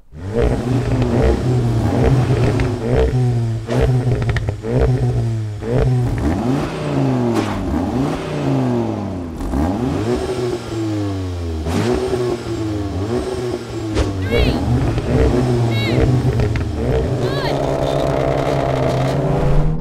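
Audi RS3 and VW Golf R pulling hard in a drag race, with repeated revving and rising engine pitch through gearshifts, loud and continuous for about twenty seconds under a talking voice.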